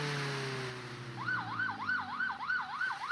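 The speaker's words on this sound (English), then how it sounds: "This thing heals people. You can stop by the hospital to heal yourself after a fight. It has a nice siren." An ambulance siren from the Roblox game Jailbreak starts with a falling drone, then switches to a rapid, regular wail that cycles up and down. It is loud and clear and plays alone.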